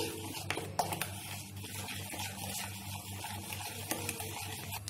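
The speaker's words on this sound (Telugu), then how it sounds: "ఈ విధంగా బాగా కలుపుకోవాలండి మరీ పలుచగా కాదు అలానే మరీ గట్టిగా కాకుండా మీడియంగా మనం వీటిని కలుపుకోవాలి" A spoon stirring cupcake batter in a bowl gives a soft, continuous scraping and sloshing with occasional light clinks against the side, fairly quiet and steady.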